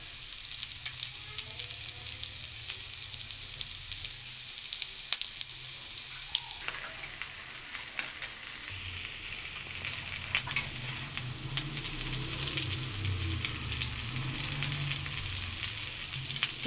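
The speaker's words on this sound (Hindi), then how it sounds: "सारे कबाब हम इसी तरह फ्राई कर लेंगे।" Shami kababs shallow-frying in a pan give a steady, moderate sizzle with fine crackle, swelling somewhat louder toward the end; no one talks.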